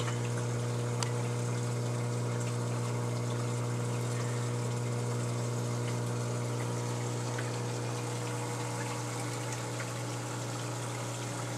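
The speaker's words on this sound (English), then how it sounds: "Reef Octopus XP2000 cone skimmer. Great skimmer." Reef Octopus XP2000 cone protein skimmer running in the sump of a 90-gallon reef aquarium, a constant steady pump hum with a continuous watery hiss, close and unchanging throughout.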